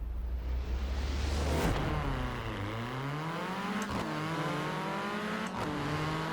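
A sleeper drag-build race car in Forza Horizon 4 revs hard and climbs through its gears, the engine note dropping sharply at each of three upshifts before rising again in a loud, continuous whine.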